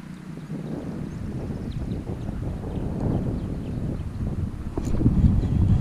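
Wind gusts buffet the microphone outdoors while fishing from a golf course pond, a steady low rumble that swells louder near the end, with no talking.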